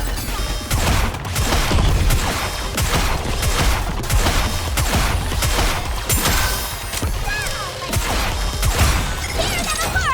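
Dense, continuous gunfire and bombardment in the game Goddess of Victory NIKKE, with rapid overlapping shots and impacts forming a loud, chaotic barrage throughout.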